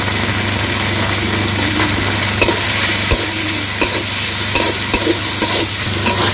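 Spices frying in a pan for a fish curry with tomato, salt and dried chilli, cooked village style, a loud continuous sizzle with scattered scraping strokes of stirring, close up, with no talking.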